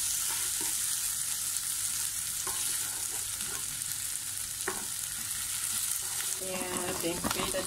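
Tempeh and tofu stir-fried in soy sauce in a pan, with a steady loud sizzle and occasional scrapes and clinks of a utensil stirring, ending in a brief clatter, and no talking.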